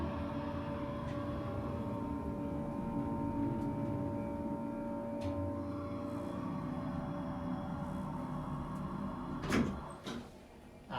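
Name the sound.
Dover/Marshall Oildraulic hydraulic elevator motor running, car going up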